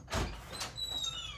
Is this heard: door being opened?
yes